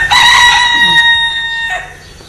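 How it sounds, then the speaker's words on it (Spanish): Rooster crowing loudly and close with chickens clucking around it in a village farmyard, a sustained crow filling most of the moment. "Ahí tienen las gallinas."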